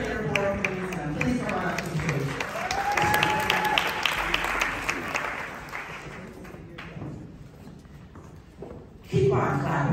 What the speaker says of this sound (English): Keep on clapping about this.